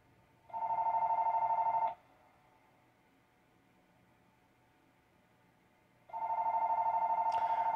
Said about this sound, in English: Sorry, my house phone is ringing.